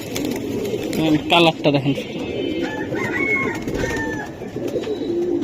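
Giribaz pigeons, a silver hen and an all-aluminium cock, coo in low, soft bursts close by. Someone talks over them in a noisy indoor space.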